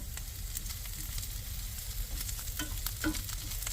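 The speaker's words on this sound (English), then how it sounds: "I put it in this pan along with the onions, the crushed jalapeno pepper, and some fresh garlic" Onions, crushed jalapeno pepper and fresh garlic fry in melted steak grease in a pan inside a van, with a steady close sizzle, crackling pops and occasional stirring scrapes.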